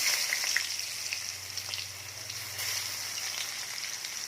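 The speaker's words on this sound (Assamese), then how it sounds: "এতিয়া ইয়াতে মই পিঁয়াজ দি লৈছোঁ।" Onions frying in a pan give a steady, close hiss and crackle that runs throughout, with a low hum beneath and no talk.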